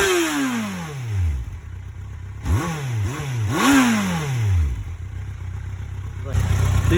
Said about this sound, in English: So I'll now show you the exhaust note.